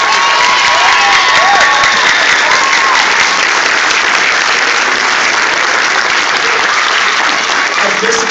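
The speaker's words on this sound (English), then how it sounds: "give the Desert Hot Springs High School Wind Ensemble one more round of applause." Loud, dense applause from a large audience after a high school wind ensemble performance fills the whole stretch, steady throughout, with a few faint cheers and whoops rising above the clapping.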